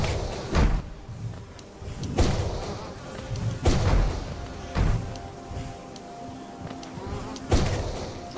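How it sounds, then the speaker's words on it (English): Insect-like buzzing of bees drones steadily through Hollow Knight game audio, broken by several heavy thuds at irregular intervals. "Double teamed by bees."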